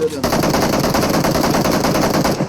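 Sustained burst of automatic gunfire in the mobile shooter game PUBG Mobile, rapid and loud, rattling on without pause for the whole stretch.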